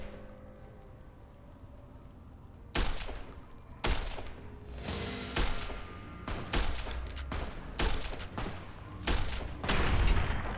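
Gunshots in the video game Fallout New Vegas: a quiet lull, then about eight or nine loud, sharp shots at uneven intervals, each followed by a short echoing tail.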